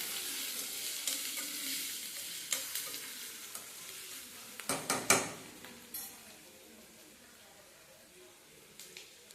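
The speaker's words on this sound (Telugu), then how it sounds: "కొంచెం వేగిన తర్వాత కొంచెం వేగనివ్వండమ్మా" Potatoes frying in a pan for homemade potato curry, a steady soft sizzle with occasional scrapes and clinks of a spoon stirring against the pan, a cluster of louder knocks midway, faint and fairly close.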